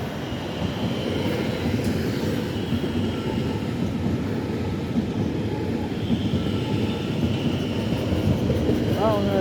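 A Z 50000 commuter train rolls past at Pont Marcadet, Paris, with a sustained rumbling, rattling roar that holds steady throughout, broadband and fairly close, with a faint squeal near the end.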